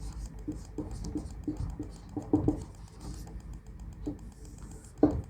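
A pen scratches across paper in quick handwritten strokes, close and quiet, with short bursts of scribbling separated by tiny pauses and no talking.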